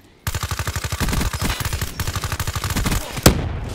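The Weevil gun in Call of Duty Black Ops 3 fires a sustained burst of rapid automatic shots in a tight, even rhythm for about three seconds. One sharp swooshing effect cuts in near the end.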